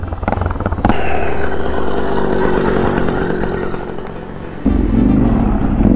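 Enduro motorcycles, a Yamaha Ténéré 700, XT660R and WR450, running close by, engines droning and revving loudly with a sharp throttle rise near the end, no talk.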